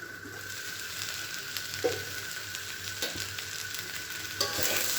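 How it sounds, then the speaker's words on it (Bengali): Mixed vegetables fry in a covered pan, giving a steady, soft sizzle with faint crackles and a few light clinks, close by and alone. "আমার সবজিটা ভাজি করা হয়ে গেছে"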